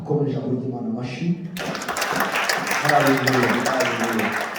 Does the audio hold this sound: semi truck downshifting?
no